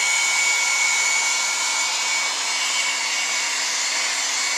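A heat gun set to its hottest setting blows a steady, loud, even roar of hot air onto thin PVC pipe, with no pauses and no voices.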